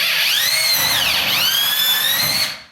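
A power drill fitted with a hole saw bores through plasterboard at a marked cross, giving a loud, close, high whine that rises and dips in pitch as it cuts, then cuts off abruptly.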